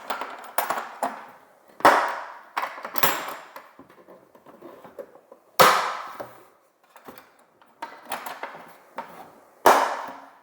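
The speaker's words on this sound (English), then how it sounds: "Fasten the clips." Clips being fastened on a Worx WG430 leaf mulcher, giving sharp plastic snaps and clicks at close range, several loud distinct latches amid smaller rattling handling knocks.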